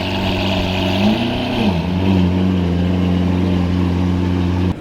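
Lamborghini Aventador engine droning loud and close as it accelerates, a steady harmonic roar that rises in pitch briefly and then settles into a sustained hum before cutting slightly at the end.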